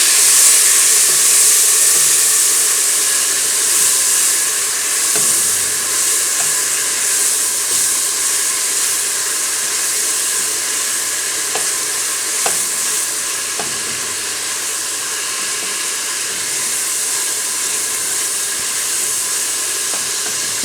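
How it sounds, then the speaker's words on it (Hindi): Ground onion fries in hot oil for beef nihari in a pressure cooker, giving a steady, loud sizzle with occasional spoon scrapes as it is stirred, without any voices. "इसको हमने तकरीबन गोल्डन होने तक फ्राई करना है। चूँकि प्याज पिसा हुआ है इसलिए बहुत जल्दी फ्राई हो जाएगा।"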